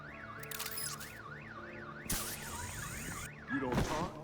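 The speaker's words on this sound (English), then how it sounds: "My bat stunner would set off the car alarm." Car alarm going off in Batman: The Enemy Within, a loud rising-and-falling electronic warble repeating steadily, interrupted midway and near the end by sharp bursts and clanking noises.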